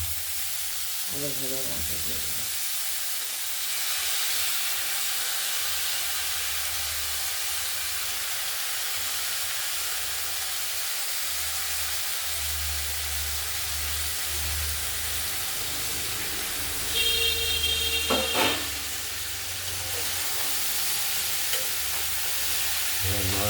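Finely chopped cauliflower being stir-fried with potatoes in oil and a spice mix in a wok gives a steady hiss and sizzle with occasional stirring scrapes, close and continuous, and a brief beep sounds partway through.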